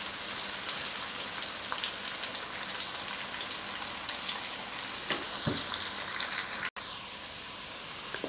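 Onions frying in oil in a pan until dark brown for a beef nalli pulao, a steady dense sizzle throughout with a few soft stirring knocks near the end, no talking.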